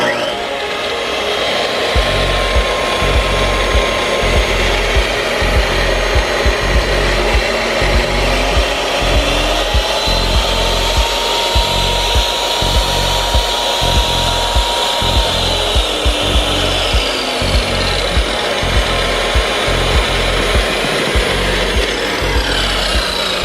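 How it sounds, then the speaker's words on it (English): A Kobalt 10-inch tile saw cuts through tile at high speed, with a loud, steady motor whine and a continuous gritty grinding of blade on tile close up, never pausing. "When I pumped it up to high, it was cutting much cleaner."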